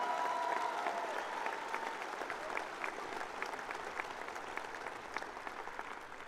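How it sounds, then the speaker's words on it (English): Applause from a large crowd at a 2022 high school graduation ceremony, steady dense clapping that gradually thins and fades over several seconds, heard from a distance in a big hall. "Please join me in one more round of applause to show them our appreciation"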